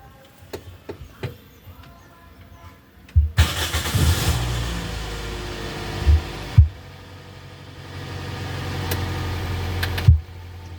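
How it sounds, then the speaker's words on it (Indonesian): A Toyota Vios engine cranks and catches with a loud thump, runs at a rough idle for a few seconds, then settles lower, with scattered clicks and knocks nearby. "Mari kita coba nyalakan mesin ya."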